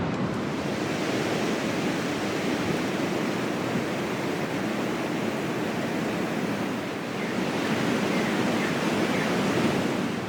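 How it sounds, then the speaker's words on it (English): Steady, loud wind roaring across the microphone at a high lookout on the New South Wales south coast for the whole stretch, a broad rushing buffet that swells slightly near the end, with no voices. "Oh, it's windy up here."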